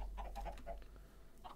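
Minecraft chickens cluck softly in a few short, close calls with brief pauses between them.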